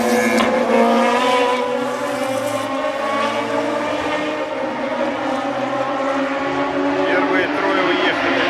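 Formula Radical race cars at Abu Dhabi running close together, engines wailing with shifting pitch that rises and falls, loud and continuous, while a commentator talks over the engine noise.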